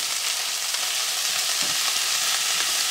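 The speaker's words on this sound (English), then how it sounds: "I don't want to take the liquid out of my onions. I just want to start to fry them down." Onions and black pepper fry in a pot for a traditional Newfoundland seafood chowder, producing a loud, dense, unbroken sizzle that stays close and even throughout, with no speech.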